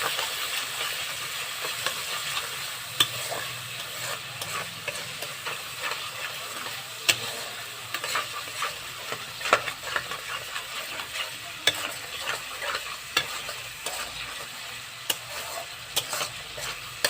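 Cumin seeds and green chilli fry in a pan with a soft continuous sizzle, while a utensil stirs and scrapes in irregular clicks and knocks, close by and alone.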